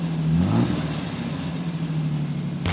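A 1987 Jeep Comanche pickup's steady engine hum with a low exhaust drone, heard from inside the cab, briefly revving up at the start.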